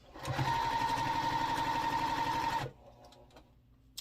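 A sewing machine runs steadily for about two seconds while stitching the center seam of a Chisolm Trail quilt block, then stops, leaving a quiet room with a few faint clicks.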